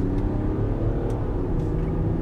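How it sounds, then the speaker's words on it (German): A 2022 Range Rover, long-wheelbase version, pulls away hard from a brake-held launch start, its engine rumbling loud and steady from inside the cabin throughout. "links Bremse, rechts Gas, vorbeschleunigen und jetzt geht der Alter."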